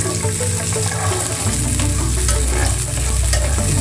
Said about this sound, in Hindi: मटर हमारा फ्राई हो रहा है